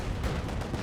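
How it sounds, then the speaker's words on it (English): A mortar shell striking in Company of Heroes 2, a brief dull explosive thump with rumbling battle noise around it, heard over under a second. "Good mortar hit there."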